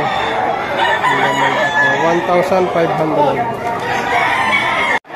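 Roosters at a busy chicken market crow loudly and repeatedly, overlapping with clucking fowl while someone talks over them, giving prices, before the sound cuts off abruptly at the end.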